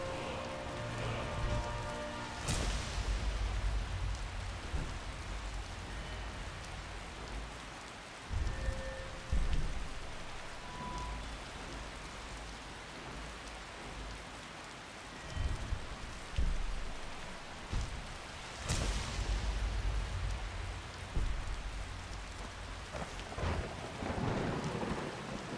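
A Skyrim rainstorm pours steadily while loud thunder cracks twice and rumbles, with faint game tones in between.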